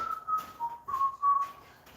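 Someone whistles a simple melody nearby, clear tones rising and falling in short phrases with brief gaps between them.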